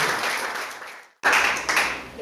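A congregation applauds at a church conference, a dense wash of clapping that cuts out briefly and then returns at full strength, with no voices over it.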